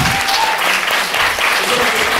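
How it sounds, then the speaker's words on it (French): Studio audience on a French TV quiz show, Burger Quiz, bursts into loud, close applause, with a brief vocal sound mixed into the clapping. "On peut l'applaudir, c'était pas facile."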